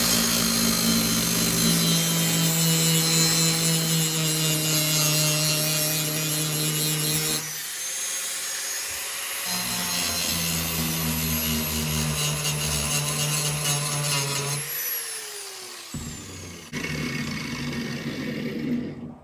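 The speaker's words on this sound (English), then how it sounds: "Pull that out and grind it." Power grinder working rusted car floor metal, a loud close continuous grinding whine that cuts out briefly and restarts several times, with pitch sweeping as the disc spins down and loads up, no talk.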